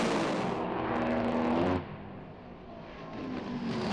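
A Top Fuel dragster launches down the strip at a drag racing event in Sydney: a loud, distant roar that cuts off after about two seconds and gives way to crowd and track ambience that builds again.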